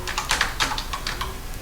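A computer keyboard is typed briefly while code is written for a website: a short, close run of rapid keystrokes at moderate loudness.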